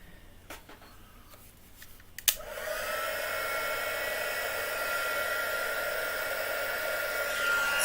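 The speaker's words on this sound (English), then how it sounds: "and my heat gun." Heat gun for crafting switched on after a few faint clicks and handling noises, then blowing as a loud, steady airy roar that continues to the end.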